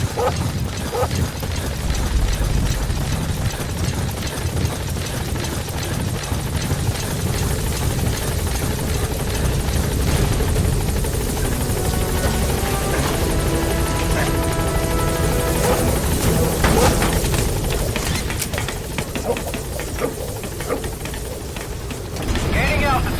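The support helicopter arrives in Metal Gear Solid V: a steady, loud rotor thrum and engine whine run throughout, with game radio voices speaking over it.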